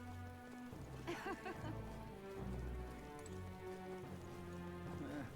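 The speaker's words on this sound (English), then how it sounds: "This bloody rain." Faint rain falls in the video game Metaphor: ReFantazio, a soft, steady patter heard quietly beneath a sustained musical score.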